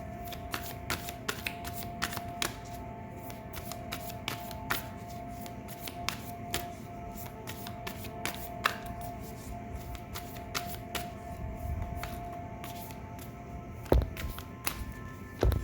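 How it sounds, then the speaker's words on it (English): A deck of cards is riffled and shuffled over and over, a steady stream of crisp flicking clicks with occasional sharper snaps, close and alone. "I'm like struggling to get a good shuffle for whatever reason."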